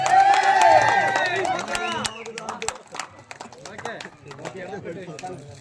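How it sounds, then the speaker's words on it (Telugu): Youth members at a Sankranthi festival celebration clap loudly together, sharp irregular claps following a burst of louder crowd noise, with voices mixed in. "ఒకసారి యూత్ సభ్యులందరూ కూడా వెంకన్నకి గట్టిగా చప్పట్లు కొట్టారు."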